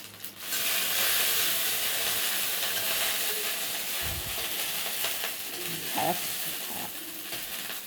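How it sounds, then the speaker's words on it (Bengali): Sour yogurt poured into a pan of frying dried red chilli, curry leaves and mustard seeds, giving a loud, steady sizzle that fills the whole stretch, with a few light stirring clinks near the end. "এখন এর মধ্যে আমি টক দইটা ঢেলে দিলাম"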